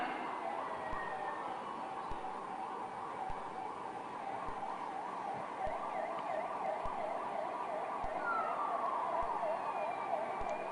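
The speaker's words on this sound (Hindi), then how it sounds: "एकीकृत रेफरल ट्रांसपोर्ट प्रणाली के अंतर्गत नवीन एम्बुलेंस वाहनों के संचालन का लोकार्पण हो रहा है" An ambulance siren wails steadily and continuously at the launch of new ambulance vehicles, a repeating electronic yelp heard at moderate distance over outdoor road rumble.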